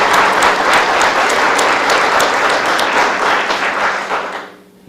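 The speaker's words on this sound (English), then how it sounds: "let's give a big round of applause" Audience applause for two finalists at a championship round of a college competition, loud sustained clapping from a full room that fades out near the end.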